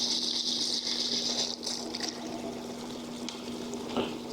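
Water sprays and patters from a Camplux outdoor shower head fed by a portable pump, a continuous hissing gush heard up close with a steady pump hum underneath.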